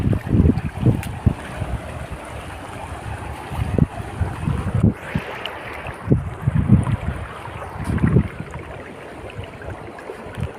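Floodwater surges swiftly in heavy rain, a steady rushing wash at close range broken by repeated louder gusty bursts of churning water and wind noise, with no voices.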